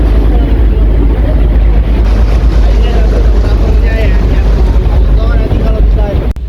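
Boat cruising on the Bosphorus Strait in Istanbul, a steady loud engine drone with heavy wind buffeting the microphone, water rush throughout, and voices faintly audible beneath.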